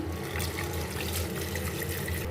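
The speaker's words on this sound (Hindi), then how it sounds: "2 गिलास इसमें हम पानी के ऐड करेंगे।" Water is poured from a glass into a pot of chicken and lentils for shami kabab, a steady, close splashing rush that fills the whole stretch without talk.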